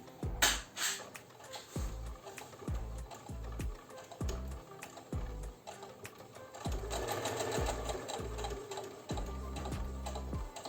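A sewing machine stitches a straight seam on a beginner scrunchie-and-ribbon sewing project, running in short rhythmic bursts of rapid needle clatter with brief stops between them, close and fairly quiet.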